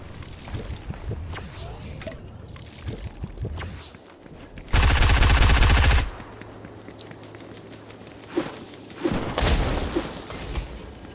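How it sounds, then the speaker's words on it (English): Burst of gunfire during a Fortnite match, one loud sustained volley of about a second standing out over quieter game sounds and faint earlier shots, followed by a second shorter volley. "Who's shooting now?"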